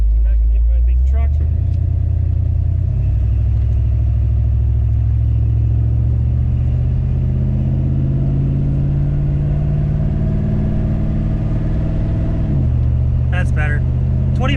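A Chevy C30 squarebody truck with a 4L80e transmission revs steadily under load, the engine note climbing then dropping as a gear shifts near the end, loud and close with a voice speaking over it.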